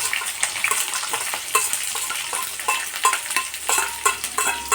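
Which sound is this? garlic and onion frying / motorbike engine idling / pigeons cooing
garlic and onion frying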